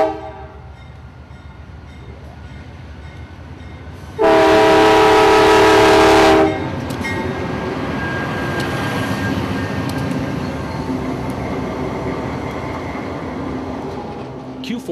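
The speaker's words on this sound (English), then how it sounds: "Q452 really is an interesting train." A loud train horn blasts for about two seconds, followed by the steady rumble and clatter of long freight train Q452, hauling hoppers of old cross ties, rolling past a street crossing.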